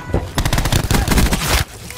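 Rapid bursts of automatic gunfire in the shooter game Black Ops 4 gun game mode, loud and close, firing in quick repeated volleys for over a second before cutting off.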